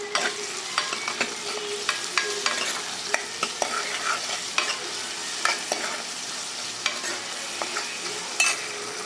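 Onions sautéing in a pan for idli kurma, a constant soft sizzle broken by repeated ladle stirs and scrapes at close range, no voices.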